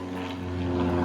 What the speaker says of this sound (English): Figures a plane would come over right now.